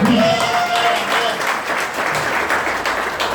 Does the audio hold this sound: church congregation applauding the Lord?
yes